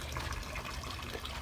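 Water pours steadily into a container being filled for horses, a continuous close rushing and gushing sound with no voices over it.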